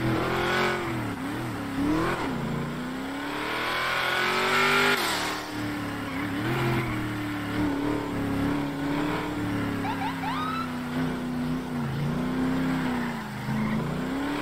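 Dodge Charger Hellcat cars in a video game drive past one after another, a steady engine drone with revving swells and a brief tire squeal, close and fairly loud throughout.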